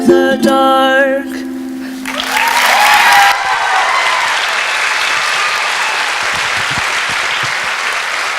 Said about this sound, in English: I love hearing the cheering.